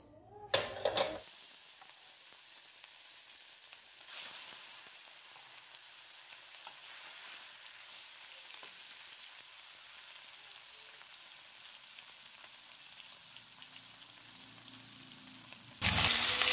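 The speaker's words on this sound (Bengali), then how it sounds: "সর্ষের তেল ভালো করে গরম করে নেওয়ার পর দিয়ে দিচ্ছি ইলিশ মাছগুলো" Hilsa fish sizzles in hot mustard oil with a faint, steady, even hiss that starts with a short crackle and stays constant throughout.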